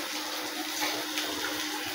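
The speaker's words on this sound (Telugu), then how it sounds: "ఇందులో కొంచెం చిన్నగా నీళ్ళు వేస్తున్నాను" Water poured into a curry of turmeric, salt and chili in a pot, a continuous close splashing gush over two seconds, no speech.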